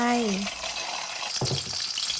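Hot oil sizzles and crackles loudly as egg whites are poured into the pan, with a short voice at the start and a sharp spatter burst midway.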